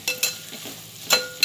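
Beef tossed with turmeric powder sautés in a pan, giving three or four short, close stirring scrapes over a faint sizzle. The whole thing is brief and no one speaks.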